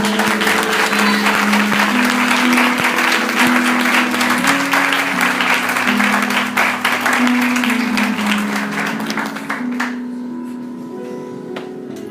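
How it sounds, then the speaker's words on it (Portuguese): A church congregation applauds steadily for several seconds over music, the clapping fading gradually toward the end. "Dê uma salva de palmas a Jesus."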